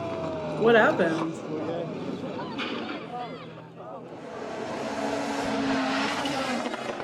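Rally cars race past with high buzzing engines, rising and fading close by, and a tire squeal near the start. Someone talks over much of it.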